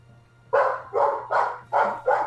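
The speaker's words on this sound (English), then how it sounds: "Yes, dog!" A dog barks five times in steady succession, close and loud, each bark a full sharp burst with short gaps between, over a low constant hum and no talk.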